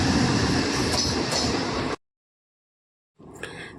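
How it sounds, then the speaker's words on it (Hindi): A train arriving at a station: steady loud rumble and rolling noise for about two seconds, a sudden cut to silence, then the rumble resumes with a brief metallic clank. "आ गई ट्रेन।"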